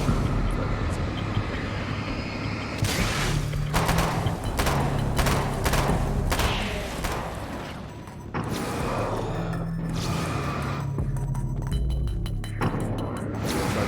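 Rapid automatic weapon fire from Alan Wake's American Nightmare, a dense continuous clatter of bursts over a steady low game rumble, with short pauses between volleys.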